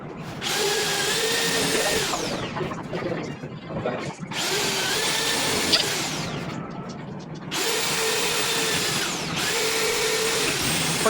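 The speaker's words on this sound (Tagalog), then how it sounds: "lagyan na natin ito ng guide at marking para sa pag-drill, at bubutasan na natin ito" Power drill bores holes into a wall to mount a full-motion TV bracket for an LG 65-inch set, three loud, close bursts of a few seconds each with the whine rising and falling, separated by brief pauses.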